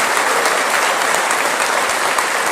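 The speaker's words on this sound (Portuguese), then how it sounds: "Pode aplaudir o seu nome." A church congregation claps together for Jesus' name, a dense, even wash of many hands at full strength from start to finish, with no talking over it.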